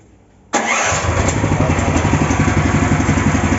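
A small engine kicked over by its starter catches abruptly after a quiet moment, then settles into a steady, close, evenly pulsing idle that runs on alone.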